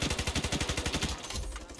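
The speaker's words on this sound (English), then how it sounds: "I missed so many shots there." Rapid automatic gunfire in the shooter game Ironsight, a fast regular burst of about twenty close, loud shots that stops abruptly before two seconds.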